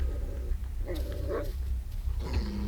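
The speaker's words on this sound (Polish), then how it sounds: "piesek, gdzie jesteś?" Dog in the Blair Witch video game barking a few times, with rough, growly barks spaced across a couple of seconds over a low rumbling ambience.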